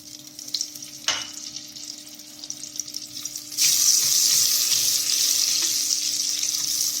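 Vegetable oil and a heaping spoon of butter melt in a pot over low heat for a vegetable soup, a faint crackle first, then a sudden louder steady sizzle that keeps going.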